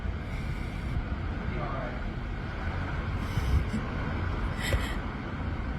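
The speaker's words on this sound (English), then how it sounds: "The wind is so bad." Strong hurricane wind roars steadily outdoors during Hurricane Ian, a constant dense rush buffeting the microphone, with faint gusting swells and no clear voices over it.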